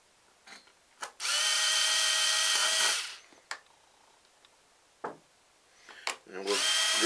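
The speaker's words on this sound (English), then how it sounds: "we're going to use our drill. We are going to drill holes right in the corner of this." A power drill bores holes through a block of wood, two loud whining bursts separated by quiet clicks and handling knocks.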